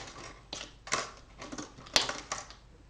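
Scissors cut out another paper shape for a handmade Christmas card, giving five or six crisp, close snips spaced irregularly over a quiet background.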